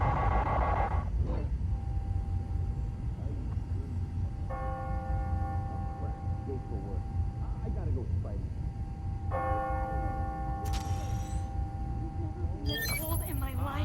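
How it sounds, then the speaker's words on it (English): Church bells in the video game Spider-Man: Miles Morales ring on the hour with sustained tonal strikes in two separate bursts, under a constant low rumble, with a voice speaking now and then. "Ringing on the hour. When I hear those bells"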